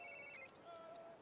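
A mobile phone ringing in The Sims 3 game, a quiet electronic ringtone of short repeated chirping tones, faint and thin, heard alone over a low background.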